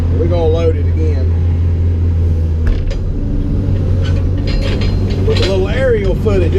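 A long-reach Cat excavator loads mud into a truck, with loud creaking and groaning hydraulics over a constant heavy engine drone and occasional metallic clanks, close by.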